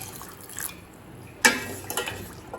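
Water poured into a pan of jaggery for moong dal payasam, a brief splash and trickle with a few light drips afterward, close and fairly quiet.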